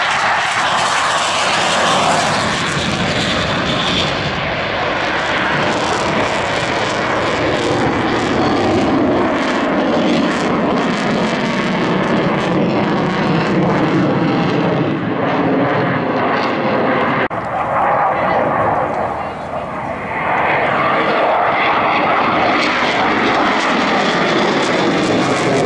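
MiG-29 jet fighter at Sliač air base flying a touch-and-go, a loud sustained engine roar with a sweeping pitch shift as it passes, dipping briefly before swelling again.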